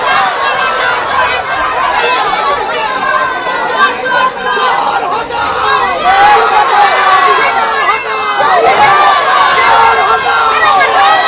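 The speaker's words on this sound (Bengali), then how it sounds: "তৃণমূল কাউন্সিলরকে দেখে চোর স্লোগান দেওয়া হয়েছে" A dense, loud crowd at a protest in Rajpur Sonarpur shouts slogans of "thief" at a Trinamool councillor, a continuous roar of overlapping voices with chanting and shouting throughout.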